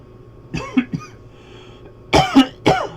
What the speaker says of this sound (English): I'll get to why I'm coughing at the moment